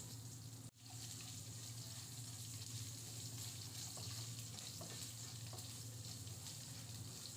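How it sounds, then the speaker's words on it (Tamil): Eggs fry in hot oil with pepper powder and salt, giving a steady, continuous sizzle close by after a brief clatter at the start, with no talking. "பெப்பர் தூளையும் உப்பையும் சேர்த்துட்டு முட்டையை இந்த மாதிரி நல்லா ஃப்ரை பண்ணி எடுத்துக்கிறேன்."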